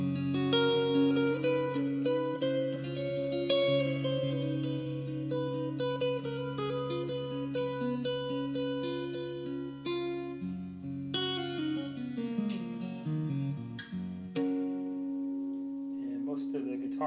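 An electric guitar plays through a Roland Street Cube amp with reverb: sustained notes and chords ring out, shifting melodically and sliding downward near the end, with a soft wash of decay.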